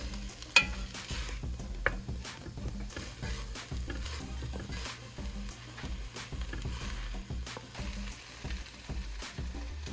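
Onions sauté gently in a pan over a low fire, a soft continuous sizzle with occasional stirring scrapes and light clinks throughout, close and steady with no talking.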